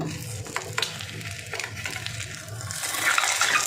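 Egg omelette sizzling in a pan on low heat as it is flipped, with a few sharp scrapes and taps of the spatula over a steady hiss that swells toward the end, with no talking.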